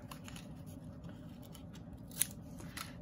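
Paper being trimmed with scissors while finishing a handmade summer mini-journal, a faint single snip standing out over low background noise, with no talking.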